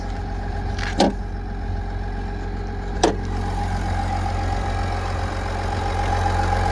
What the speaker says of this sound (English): Little Duramax diesel.